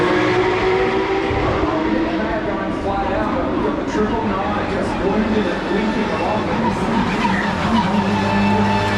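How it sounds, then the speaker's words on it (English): V8 Supercars race cars on a circuit locking wheels and skidding, a dense roar of engines and tyre noise filling the whole stretch, loud and continuous, with a commentator's voice talking over it. "two cars locking wheels and they climb up over each other"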